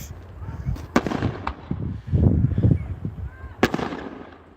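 Fireworks explode over South Manistique Lake near Curtis in Michigan's Upper Peninsula, with several loud booms and sharp cracks spread across the moment and people's voices mixed in nearby.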